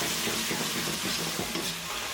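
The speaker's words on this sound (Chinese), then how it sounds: "大火快速收汁" Sauce reduces over high heat in a wok for a Chongqing-style crucian carp dish, giving a steady close sizzle and bubbling with light stirring throughout, no voices.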